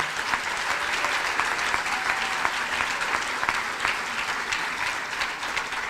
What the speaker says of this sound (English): give yourselves a round of applause for everything you have accomplished today